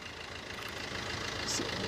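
A 2012 Maruti Ertiga VDI diesel with 57,000 km, first owner, idles with a steady low rumbling drone and slight rattle, close by and continuous, rising a little in level toward the end.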